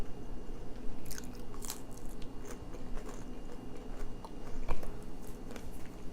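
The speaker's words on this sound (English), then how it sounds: "Can you hear the crispiness?" A homemade baked tortilla chip with guacamole being bitten and chewed up close, quiet crisp crunches scattered over several seconds with soft mouth sounds between them, no talking.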